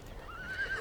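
A single short, faint horse whinny comes from a training arena on an American ranch, a thin rising call over quiet low background rumble.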